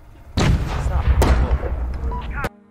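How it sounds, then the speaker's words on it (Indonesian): Gunfire in a film action scene, heavy booming shots in a loud burst of about two seconds with sharp repeated cracks and a strong low rumble, ending abruptly. "Tidak lama kemudian, terdengar ada suara tembakan."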